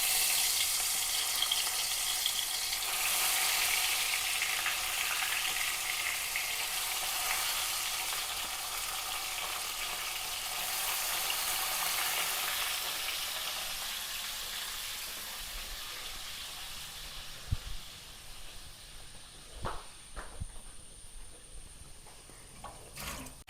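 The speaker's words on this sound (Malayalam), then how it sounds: "അപ്പോൾ അതിലേക്ക് നമ്മൾ മീൻ മാരിനേറ്റ് ചെയ്ത് വെച്ചിരിക്കുന്നത് അങ്ങ് ഇട്ട് കൊടുക്കാം" Marinated fish frying in a clay pot gives off a loud, dense, continuous sizzle close by that slowly fades, followed near the end by a few scattered knocks and taps, with no talk.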